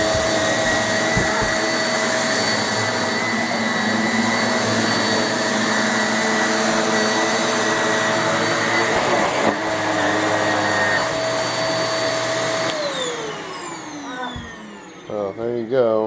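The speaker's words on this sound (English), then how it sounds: "I'll vacuum this and probably just show you guys a pass" Shark Navigator upright vacuum cleaner running continuously for a cleaning pass, a loud steady whine and whoosh that winds down near the end with a few knocks as it stops.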